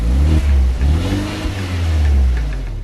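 A 2017 Fiat 124 Spider's 1.4-liter turbocharged four-cylinder revs hard under acceleration, a loud, close, steady low growl with rising and falling pitch that fills the whole stretch without any voices.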